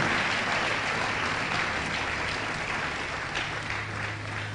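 A church congregation applauding during a French-language sermon: sustained, dense clapping from a full room, loud at first and gradually easing, with no voices over it.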